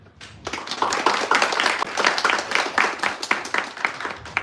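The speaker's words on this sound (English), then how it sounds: "Let's hear a warm round of applause for Yusuf." Audience applause for a speaker named Yusuf at a scientific talk, a dense, steady wash of many hands clapping that starts abruptly and carries on strongly throughout.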